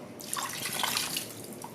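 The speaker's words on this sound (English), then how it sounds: "And then I'm going to take my white wine and pour it right down below." White wine pours steadily into a roasting pan beneath a chicken for a couple of seconds, a close splashing trickle.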